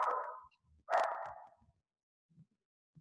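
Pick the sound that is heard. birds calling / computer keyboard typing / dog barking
dog barking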